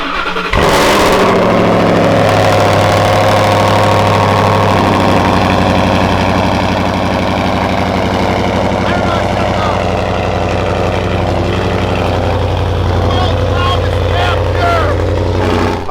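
A supercharged, straight-piped Ford Raptor truck at a county fair fires up with a sharp roar, then settles into a loud, steady, rumbling idle that runs close and continuous throughout, with voices faintly under it.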